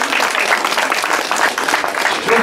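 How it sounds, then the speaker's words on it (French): Sustained, dense audience applause at a team presentation event for Penn ar Bed Pays d'Iroise, steady and fairly loud throughout with no talk over it. "une ovation qui est amplement méritée"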